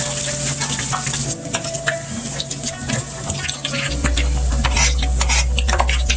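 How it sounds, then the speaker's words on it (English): Sauce thickened with cornstarch being stirred in a pan, with repeated spoon scrapes and clinks over a low bubbling sizzle, close and fairly loud, without speech. "you want to stir this because it's got that cornstarch in it"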